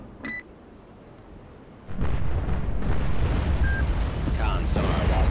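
A brief warning tone, then a loud, roaring rush of missile launch noise that starts suddenly about two seconds in and holds steady, with short electronic beeps, in the Cold Waters submarine game.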